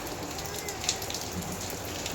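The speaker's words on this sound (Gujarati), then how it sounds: "કેટલો વરસાદ ચાલુ છે આજ." Heavy overnight rain pours down in Surat, a steady, dense hiss of falling water and splashing drops that holds at an even level throughout, with no voices.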